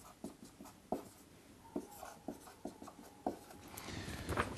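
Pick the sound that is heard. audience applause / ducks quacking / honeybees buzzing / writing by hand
writing by hand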